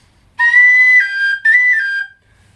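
Two loud, shrill blasts from a Chieftain Thunderbird train whistle sound in quick succession against near silence, the second trailing off.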